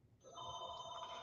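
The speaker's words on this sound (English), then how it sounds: "sorry about the phone ringing, I forgot to take it off the hook" A telephone rings indoors with a steady electronic trill that starts abruptly and holds at a bright, constant pitch, fairly clear and alone.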